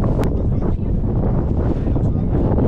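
Strong wind buffets the microphone out on the Uyuni salt flat in Bolivia, a loud, continuous rough roar with gusty swells throughout.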